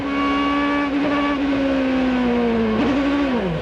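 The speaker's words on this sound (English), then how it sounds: "He was off the gas, went to get the brake possibly, caught a little bit more gas, and the car just went around on him." An IndyCar race car on pit road at Homestead, engine drone holding a steady high pitch that sags gradually as the car slides and spins, close and loud with no talk.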